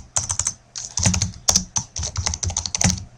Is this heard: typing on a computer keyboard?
yes